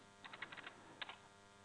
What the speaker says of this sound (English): You noticed I clicked the tab key 3 times.